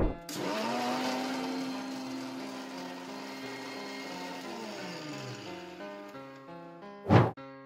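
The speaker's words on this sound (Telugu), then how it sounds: "మిక్సీ పట్టుకోవాలి" An electric mixer grinder blends lassi ingredients with a steady high motor whine that slowly winds down in pitch, followed by a sharp knock at the end.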